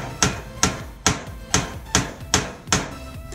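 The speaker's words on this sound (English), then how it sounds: "Let me hammer this." Seven sharp hammer strikes land in a steady rhythm while fitting add-ons to a trailer, each a crisp close metallic-wooden bang with a short ring, evenly spaced about half a second apart.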